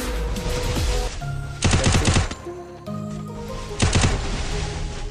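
Rapid automatic gunfire from a mobile shooter game comes in two loud bursts of fast, evenly spaced shots, with quieter game sounds between them.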